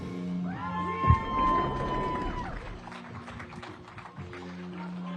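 A crowd at a Bassmaster Elite Series bass fishing weigh-in at Lake Oahe cheers and whoops loudly, swelling after a sharp clap and then easing off, while an announcer's amplified voice carries over the noise.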